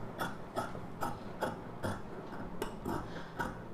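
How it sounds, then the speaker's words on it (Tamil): Scissors snip through blouse fabric along a marked cutting line, giving a series of about nine crisp, evenly spaced clicking cuts, close and fairly quiet, with no talking. "இந்த லைன்லேயே அப்படியே கட் பண்ணிக்கலாம்."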